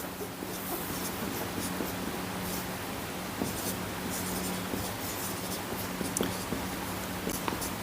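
Pen writing notes on paper for a biology lesson, a steady soft scratching and rubbing that runs without a break, close and fairly quiet.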